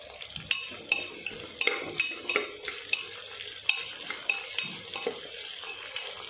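Potatoes being sautéed for masala aloo khichdi sizzle in a pan while a spoon scrapes and taps the metal in a steady rhythm of about a dozen strokes, close up with no talking.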